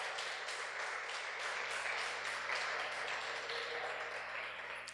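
A church congregation applauds in a sustained, even wash of clapping that continues throughout and tapers slightly at the end.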